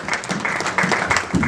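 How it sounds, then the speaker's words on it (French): A church congregation at a revival service claps for the King of Kings, with brisk, steady applause close by and some voices beneath it. "Let's clap for the King of Kings."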